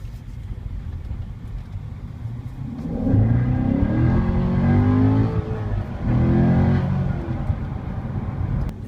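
A 1995 Corvette with a small block Chevy V8 accelerating, steady engine rumble that rises in two strong surges of revving, heard from inside or near the car with no talking.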